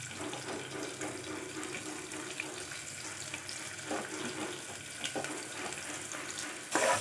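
A large onion, sliced thin, sautés in a pan for amaranth greens pulao, giving a steady, close hiss of sizzling without pause, with small stirring bumps and a louder burst of crackle near the end, and no one talking.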